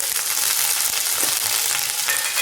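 Cumin seeds, chopped ginger and green chili hit hot oil for a fasting-day vegetable dish, producing a dense, loud, close sizzle that holds steady throughout.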